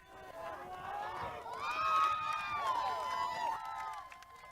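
A high-school boys' lacrosse crowd in Sanford cheers and whoops loudly as a quarter ends, a steady swell of voices lasting several seconds before easing off.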